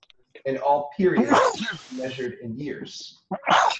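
A single sharp sneeze bursts out near the end, just after a lecturer finishes a sentence in an astronomy class on stellar evolution.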